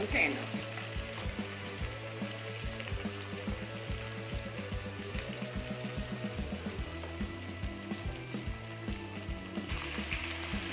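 Fish with green pepper frying in hot oil in a pan, a steady close crackling sizzle with rapid bubbling pops running throughout, fairly loud and continuous.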